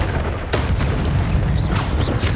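Bombarda spell blasts from Hogwarts Legacy erupt as heavy, booming explosions with a deep rumbling low end, loud and close, two or three bursts in quick succession.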